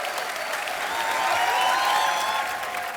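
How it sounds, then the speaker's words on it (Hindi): A studio audience on a comedy show applauds steadily and loudly for the full stretch, a dense, even wash of clapping from many hands with no voices over it. "जोरदार तालियां एक बार."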